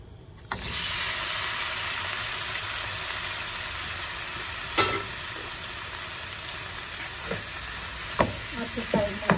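Fiddlehead fern and chilies fry in a hot pan with a steady loud sizzle that kicks in abruptly, broken by a few scraping stirs toward the end.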